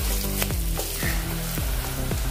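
Rice and lentils dry-roasting in a pan for pongal khichdi, giving a steady close sizzle with soft stirring scrapes recurring about every half second, no voices.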